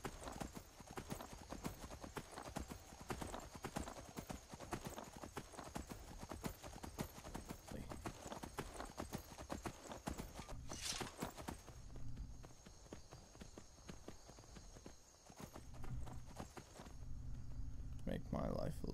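Steady horse hooves clip-clop at a walking pace through most of the clip, with a brief quieter stretch near the end and background ambience from the video game Skyrim.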